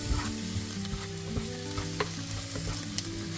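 Tomato paste frying in a pan for a beef and potato curry, a steady close sizzle broken by repeated scraping stirs, with no talking.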